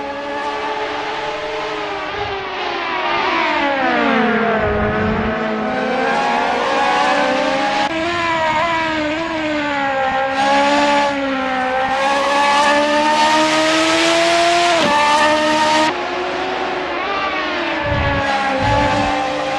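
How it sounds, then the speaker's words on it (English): Radical endurance race car engines at Mugello circuit, loud, rising and falling high-revving whine with repeated gear shifts, sustained throughout with no talk. "These engines aren't just humming for fun."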